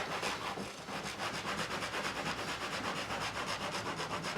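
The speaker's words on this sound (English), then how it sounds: "I'm going to clean up the fingerboard with some white spirit to get off all the gunk" A cloth soaked in white spirit is rubbed hard back and forth along the fingerboard of an Ernie Ball Music Man Silhouette bass, giving a quick, even rhythm of close, dry scrubbing strokes.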